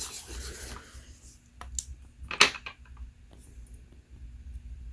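Nail polish scraped across a metal stamping plate in a few short, rough rasping strokes, one sharper scrape standing out mid-way, close and isolated against near silence.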